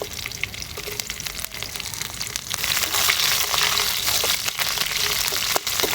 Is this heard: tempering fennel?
yes